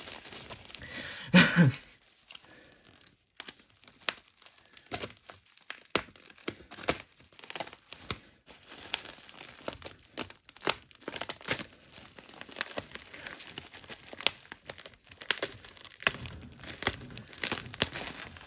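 Tape is ripped and peeled off PowerRider toy packaging in bursts of crinkling plastic and tearing, with irregular rustles, short snaps and quiet pauses between efforts, and no talk over it.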